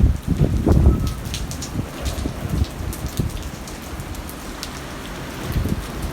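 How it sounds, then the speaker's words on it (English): Heavy rain pours onto a car being driven through Sydney, a dense, constant hiss of drops drumming on the roof and glass, with a few louder thumps near the start and no talking. "The last 2 days, 3 days have been pissing down rain"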